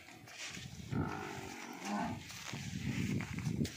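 A water buffalo on a dairy farm in Karnal gives several low, drawn-out moos close by, with short pauses between calls and quiet farm ambience.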